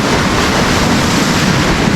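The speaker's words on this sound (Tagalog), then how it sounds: "Lakas kasi ng alon." Loud, continuous roar of heavy surf crashing close by, with gusty wind buffeting the microphone throughout.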